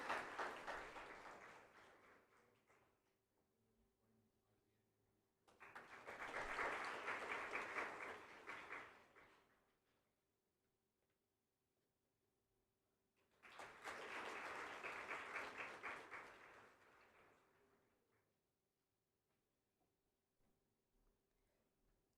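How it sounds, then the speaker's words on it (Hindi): Applause for the chief guest at an inaugural ceremony marking Swami Kuvalayananda's 142nd anniversary rises in two separate waves of many hands clapping, each swelling for several seconds and then dying away, with a quiet hall and a faint steady hum between them. "तालियों की गड़गड़ाहट रुकनी नहीं चाहिए।"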